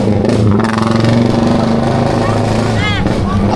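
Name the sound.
motorcycle with loud aftermarket exhaust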